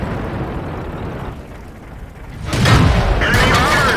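A tank shell strikes an enemy tank in World of Tanks, fired from a KV-220: a heavy, loud boom erupts midway and rumbles on, following a stretch of low mechanical noise.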